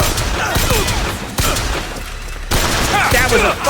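Bursts of rapid gunfire in BioShock Infinite, loud and clustered into a fusillade with short gaps, mixed with game effects and a voice talking faintly beneath.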